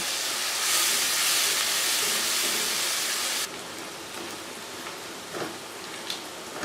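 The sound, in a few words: coarse onion paste frying in a pan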